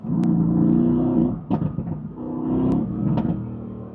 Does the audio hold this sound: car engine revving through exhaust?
yes